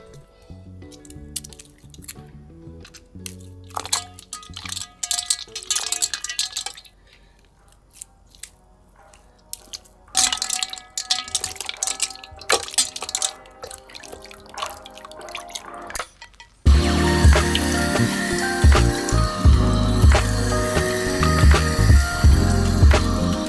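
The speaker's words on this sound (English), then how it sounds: "Now I'm going to squeeze, wash, and rinse the butter until the water runs clear." Homemade butter being squeezed, washed and rinsed in water until it runs clear, with wet squishing, dripping and splashing in irregular bursts, growing louder and denser toward the end.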